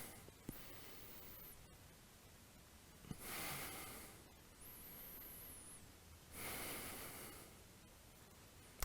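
Slow, deep breaths taken while holding a yoga pose in a vinyasa flow, soft airy inhales and exhales in a steady rhythm, close and quiet, with no talking.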